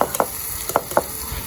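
Food being sautéed and stirred in a pan while making kothu, soft frying sizzle under several quick scraping and stirring strokes, close and fairly quiet.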